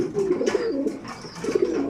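A male red chika pigeon coos in a loft during breeding season, giving two close, loud rolling coos that swell and fade in a steady rhythm.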